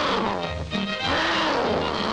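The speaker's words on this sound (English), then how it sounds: "he heard the most ferocious-sounding roars" A tiger in an old black-and-white television cartoon lets out a loud, ferocious roar, a dense rumbling growl filling the short stretch with no talk over it.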